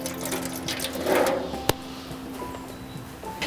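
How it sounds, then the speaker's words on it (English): Water poured from a container into a drip tray set between the coals of a smoker, a brief splashing pour near the microphone followed by a quiet hiss and a sharp single knock. "place a drip tray between the coals and just pour a small amount of water"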